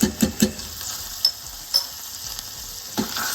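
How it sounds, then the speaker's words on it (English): Chili powder and minced ginger sizzle in a hot pan with a cinnamon stick, and a utensil gives several close, sharp stirring scrapes and taps over a soft, steady fry. "Stir that for about a minute until fragrant."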